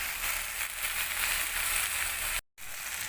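Okra, potato and pointed gourd frying in a pan: a steady, bright sizzle that hisses on without pause, briefly cutting out near the end before resuming.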